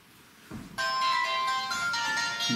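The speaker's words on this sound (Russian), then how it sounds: "Телефон." A phone ringtone starts after a brief rustle and plays on steadily as a bright, repeating tonal melody, close and fairly loud, with no talking.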